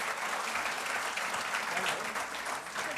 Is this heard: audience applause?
yes